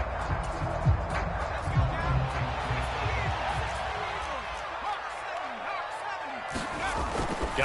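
Football stadium crowd noise in a video game, a dense, steady roar of cheering and applause for the defense, with a few low thuds early on and sustained noise throughout.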